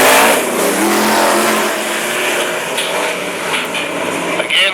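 Sprint cars race at Mac's Speedway, a loud wall of engine roar sustained throughout with revving surges as the pack takes the green flag, with a commentator's voice partly under the noise.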